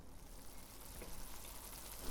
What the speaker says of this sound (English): Listen to that nice sizzle.